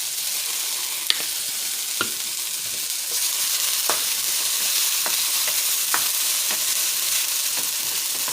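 Minced garlic fries in a pan with a steady, close sizzle, while occasional sharp ticks and taps from a utensil cut through the continuous hiss.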